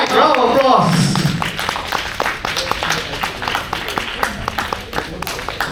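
Meeting audience at a Table Topics session applauds a volunteer in a brief burst of clapping at the start, followed by scattered taps and footsteps while people talk over it.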